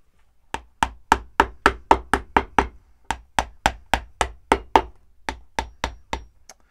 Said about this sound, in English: So you hammer them from there and it pops out